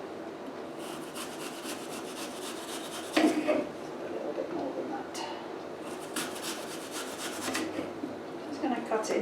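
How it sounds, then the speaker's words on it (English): A knife cuts a cooking apple into little pieces on a kitchen chopping board, giving soft rubbing and tapping strokes under a speaking voice. "Just going to cut it into little pieces."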